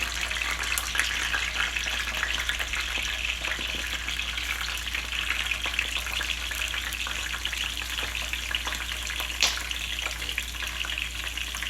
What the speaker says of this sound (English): We're just going to cook them like this for a little while